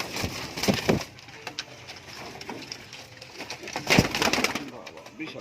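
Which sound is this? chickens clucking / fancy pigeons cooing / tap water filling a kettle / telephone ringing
fancy pigeons cooing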